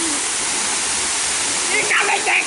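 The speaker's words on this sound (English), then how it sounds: "so we decide to go to a waterfall." A Costa Rica waterfall roars as a continuous broad rush of falling water, fairly close and steady, with a brief higher voice or squeal rising over it near the end.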